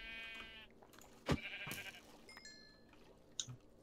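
Sheep bleating in the game Minecraft during modded multiplayer survival play, a couple of nasal bleats close by, followed by softer game noises, with no voices.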